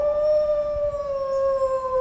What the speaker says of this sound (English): Why do wolves howl?